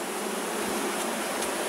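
Honeybees buzzing densely around a hive during queen introduction into artificial swarms, a constant loud hiss-like hum with no breaks, close and unbroken, no talk.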